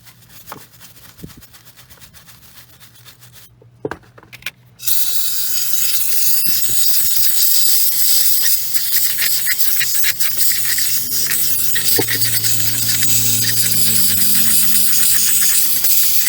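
Compressed air blasting over a Dodge Ram 2500 6.7 diesel EGR part: after a few soft clicks and taps, a loud, steady hissing rush starts and runs on without a break.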